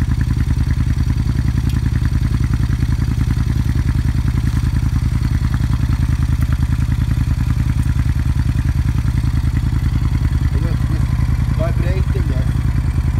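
A Suzuki Intruder 1400 motorcycle fitted with a Vance and Hines exhaust runs at a steady, close idle, its rapid even pulsing and low rumble continuing throughout, with a faint voice near the end.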